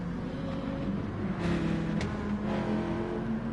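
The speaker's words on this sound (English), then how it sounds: "Really bad gear change I had there, but I didn't actually lose that much time." A race car engine in Gran Turismo Sport drones steadily at high revs, with brief interruptions and shifts in pitch around a botched gear change, moderately loud and without talk.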